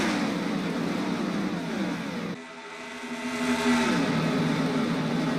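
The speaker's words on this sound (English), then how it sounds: "39 cars roar down the backstretch for the first time this afternoon" Thirty-nine NASCAR race cars roar down the backstretch in a loud, dense blend of engine noise, briefly dipping as the field sweeps past before swelling again with rising engine tones.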